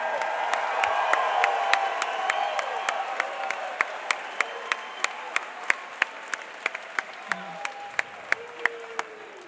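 A crowd at a caged fight event applauds and cheers after a bout, a dense wash of clapping with sharp individual claps standing out, gradually thinning toward the end.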